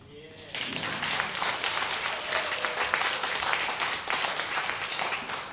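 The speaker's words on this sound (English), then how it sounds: "So a big round of applause for this beautiful city of Moscow" Applause from a concert crowd in Moscow, rising sharply after a short pause and holding as a steady, loud wash of many hands, with voices faintly mixed in.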